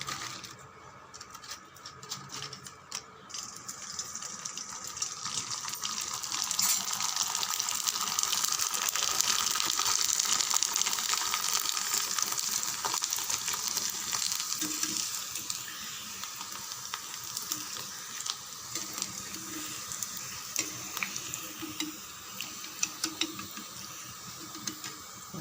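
Rice vathal fries in hot oil, giving a continuous crackling, bubbling sizzle that swells in the middle and then settles into lighter popping, with no talking.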